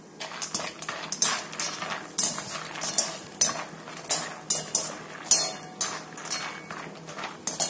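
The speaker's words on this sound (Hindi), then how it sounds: "अभी हम बादाम डालेंगे" Almonds tumble into a pan of hot ghee while cooking dry fruit laddu, giving a run of close, sharp clinks and metallic taps in an uneven rhythm, with a faint soft sizzle beneath and no voices.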